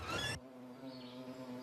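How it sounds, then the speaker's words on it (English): Bees buzzing inside a bee hut, a steady low hum that stays faint and even after a brief loud rustle at the start. "You can see the bees and you can hear them and you can smell them"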